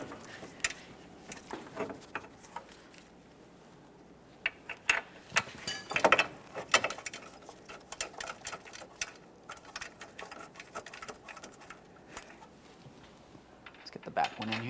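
Close ratcheting clicks and metallic taps come in irregular bursts as the ball joint mounting bolts are tightened on the steering knuckle of a 2010-2013 Kia Forte Koup.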